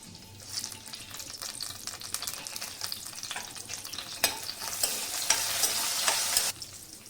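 Green chilies and curry leaves sizzle loudly in hot oil for a bendakay masala curry, a steady close frying crackle with stirring scrapes, swelling louder before cutting off near the end.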